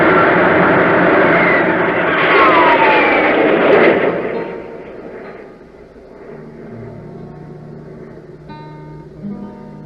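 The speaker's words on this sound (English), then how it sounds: "Stand by for blastoff." Rocket ship blastoff as a radio drama sound effect: a loud, roaring rumble with a rising whoosh that swells and then fades away into a lower hum, heard alone without voices.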